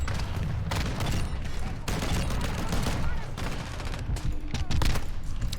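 A rapid-firing MX Guardian shotgun in a video game lets off dense, continuous bursts of gunfire with overlapping blasts and game effects throughout.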